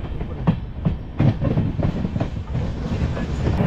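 The Alipurduar to Chalsa Vistadome tourist train runs on rails through the Dooars, with loud, close clickety-clack wheel beats coming in a rapid rhythm over a constant rumble.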